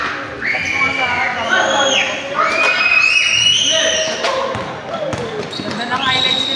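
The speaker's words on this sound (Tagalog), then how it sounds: "May sigaw ng bata. Cheering." Children shouting and a crowd cheering at a basketball game, lively and continuous, with bursts of high-pitched yells rising over a steady crowd din.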